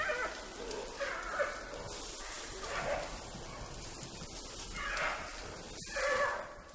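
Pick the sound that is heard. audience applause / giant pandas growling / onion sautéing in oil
giant pandas growling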